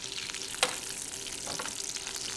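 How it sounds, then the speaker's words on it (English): A veal cutlet sizzles and crackles steadily in hot margarine in a pan, with a sharp scrape or clatter partway through. "it's essentially kind of French frying in a half a stick of, or a whole stick of margarine"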